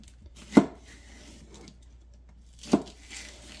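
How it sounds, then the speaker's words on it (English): A knife chops through washed celery on a cutting board, two distinct sharp thuds about two seconds apart, close and fairly quiet with no talking. "So I like just coming in on your celery, just coming down it a couple times, about like that before you chop it."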